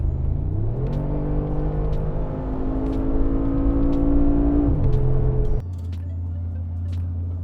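A 2019 Mercedes-AMG G63 engine hums steadily while driving, shifting up through gears with rising and falling pitch, then settling to a lower drone.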